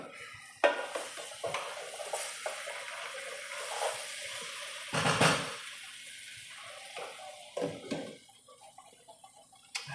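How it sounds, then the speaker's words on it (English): Potatoes frying in a pan for breakfast being stirred, with scraping and clinking spoon strokes over a soft sizzle and one louder burst of scraping midway; no talking. "So let me stir my potatoes real quick."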